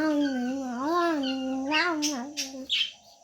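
A cat meows in a long, drawn-out, wavering cry close by in a home kitchen where lemon and blueberry muffins are cooling, followed by a few shorter, sharper mews.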